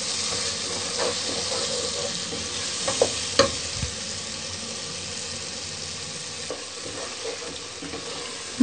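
Spice masala for an aloo matar sabji fries in a pan with a continuous hissing sizzle, broken by a few sharp stirring clacks from the spoon; nearby and steady, with no talking.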